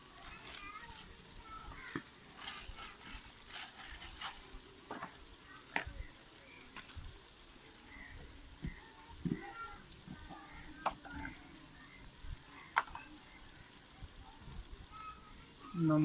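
Fenugreek seeds frying in hot oil in a pan for a village-style radish (mooli) sabzi, giving a steady close sizzle and crackle with scattered pops and stirring scrapes.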